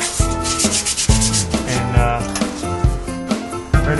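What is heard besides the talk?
sanding rust and paint off a Ford F100 truck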